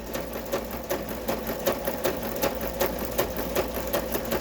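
A sewing machine stitches at a steady, quick rhythm, its needle clicking in even repeated pulses close by, with no talking.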